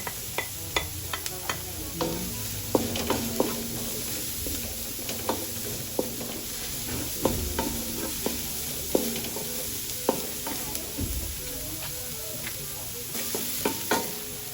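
Garlic sautés in a pan, carbonara cooking at home, with a soft steady sizzle broken by regular sharp clacks of a spatula stirring and scraping the pan, close and alone.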